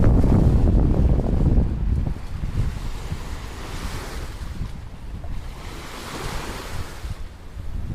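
Waves washing onto a small, clean-watered beach in Aomori, Japan, a steady rolling surf with wind buffeting the microphone, loud and close, with no voices.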